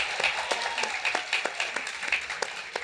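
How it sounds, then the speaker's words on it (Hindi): An audience applauds during an interview about the Panchayat series, a steady close patter of clapping hands with no talk over it. "तालियां बज रही हैं"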